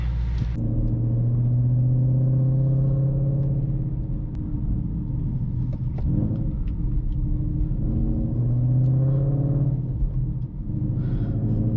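A 2021 Ford Mustang Mach 1 with a manual transmission drives close by with a deep rumbling exhaust. Revs build, drop at the gear shifts and build again, with no talking.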